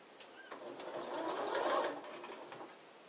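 A sewing machine stitches the gathers of a hat crown to its brim in one short, quiet, steady whirring run that swells and fades.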